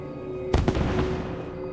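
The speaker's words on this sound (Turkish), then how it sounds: "Herhalde havaya fişek o." Fireworks in the video game Assassin's Creed 2: a sharp double burst, two quick close bangs in succession, trailing into a crackling decay over a steady low background hum.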